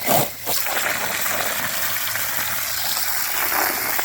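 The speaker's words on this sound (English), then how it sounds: "I guess this water was left on" Water from a tap left running outdoors near baby chickens and ducklings gushes and splashes steadily and close by, with a brief dip near the start and then an even, continuous rush.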